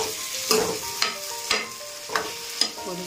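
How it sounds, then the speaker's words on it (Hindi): Vegetables frying in a pan in a home kitchen, with a steady sizzle punctuated by regular stirring scrapes about every half second, close and moderately loud, with no talk. "और इधर को मैं सब्जी बना रही हूँ"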